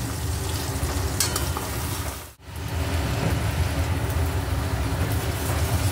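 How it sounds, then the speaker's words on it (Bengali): A paste of ginger, onion and tomato is fried and stirred in a pan for a jackfruit and potato curry, with a dense, close sizzle that briefly drops away for a moment before resuming. "ভালো করে মশলাটা কষবো যতক্ষণ না আদার কাঁচা গন্ধটা যায়।"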